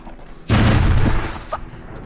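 A grenade goes off in the zombie-shooter VR game Arizona Sunshine: one sudden, loud, close boom that rolls into a broad rumbling decay lasting over a second, with no talking over it.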